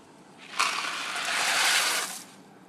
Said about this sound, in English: 4 minutes later, and we have a boil.